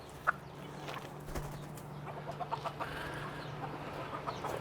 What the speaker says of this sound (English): They're called Polish chickens with the things on their heads.